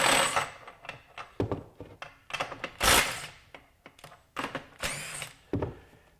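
Short bursts from a DeWalt DCF921 compact impact wrench working a bolt, several separate loud hammering runs of a second or less with brief pauses between, close up and with no talking.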